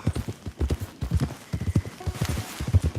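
Horse hooves in Red Dead Redemption 2 clip-clop in a steady, quick rhythm, loud and close, with soft clopping continuing throughout.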